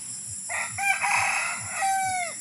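A rooster on a small farm raising chickens and piglets crows once, close and fairly loud, with a few clucks from other chickens around it and no talking.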